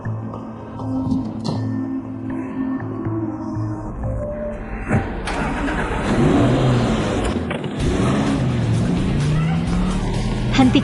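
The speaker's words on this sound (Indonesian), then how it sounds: "Hentikan mobilnya, kamu." A car engine hums low and steady as the car drives, swelling louder in the second half, with muffled voices over the running motor.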